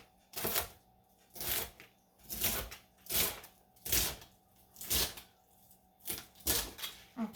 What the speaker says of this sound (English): Let me cut that